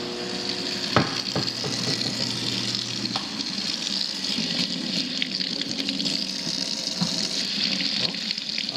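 Hot water runs steadily from a faucet fed by a tankless on-demand water heater, a continuous broadband gushing rush with a low hum at the start, close and alone with no talk.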